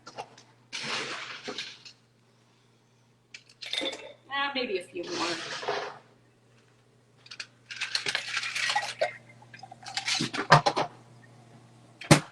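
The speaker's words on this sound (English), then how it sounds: "So now we're just going to put some ice cubes in here." Ice cubes clatter into a cocktail shaker in a few bright clinking bursts, close and fairly quiet, with a person talking in between the drops.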